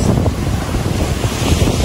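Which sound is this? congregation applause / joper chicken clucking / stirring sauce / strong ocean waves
strong ocean waves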